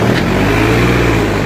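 A Solis 5015 tractor engine runs close and loud, a steady, even mechanical drone with no pauses throughout.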